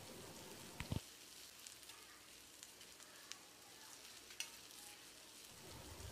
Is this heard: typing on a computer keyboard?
no